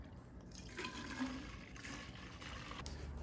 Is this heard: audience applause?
no